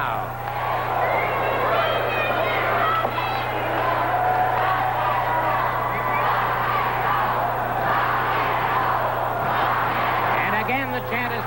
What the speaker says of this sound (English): And again the chant is picked up by the crowd.